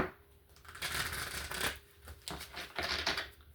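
A deck of tarot cards is shuffled by hand in a few quick riffling bursts, close and fairly quiet, with brief pauses between them and no talking.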